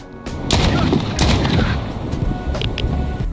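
Dense, continuous gunfire in the shooter game STALKER Anomaly during a firefight with military enemies, loud overlapping bursts and cracks forming a sustained rattle.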